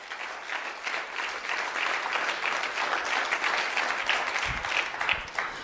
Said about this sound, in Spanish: Fuerte el aplauso a la gloria de Dios.